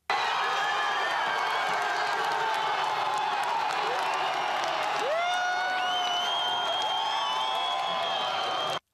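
Russian football fans roar and cheer at a home 2018 World Cup match, a dense, continuous crowd noise at steady high volume with whistles and shouts rising above it for about nine seconds.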